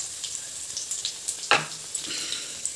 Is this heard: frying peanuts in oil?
yes